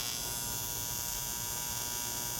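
Steady buzzing hum of an AC welding arc from a Lincoln Aspect 230 AC/DC TIG welder running a sine waveform, a soft, even, continuous drone with no breaks and no voices.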